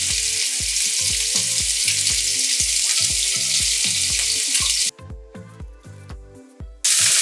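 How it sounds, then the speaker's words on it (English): Lobster sizzles loudly in hot oil in a pan with garlic, a dense steady frying hiss close up that drops away briefly near the end and then surges back. "When your oil is warm enough, put in your lobster."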